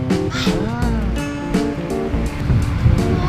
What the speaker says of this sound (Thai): วันนี้พ่อพาน้องดีเจมาเที่ยวที่หาดชลาทัศน์จังหวัดสงขลานะ